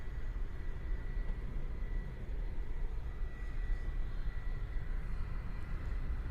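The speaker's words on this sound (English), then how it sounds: "So now we have the 757 coming at us here." A Boeing 757 jet airliner approaching over Hawaii, a steady broad low roar of engine noise with a faint whine, constant and moderately loud, and no talking.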